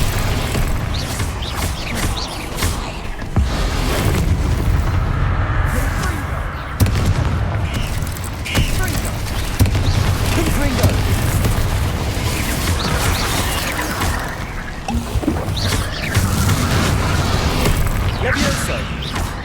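Repeated fiery spell blasts and booms from combat in Hogwarts Legacy on Xbox Series X, mixed with clanking impacts and game effects, with voices calling out over the action.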